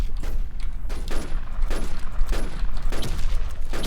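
Repeated bursts of gunfire in a video game come in quick volleys roughly every half second, loud and dense, with a steady rumble of game noise underneath and no voices.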